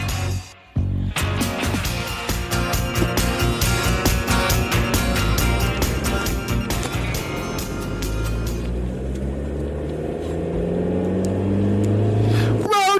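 A car engine revs loudly and steadily, holding a dense, continuous roar for most of the stretch with a rising pitch sweep near the end, no voices over it.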